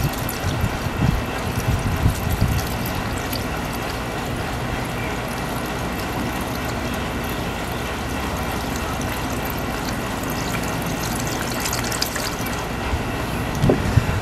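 Coolant pours into the radiator of a 7th-gen 2000-2005 Toyota Celica GTS, a steady close trickle and gurgle of liquid that holds even and continuous, with a few faint clunks near the start and end.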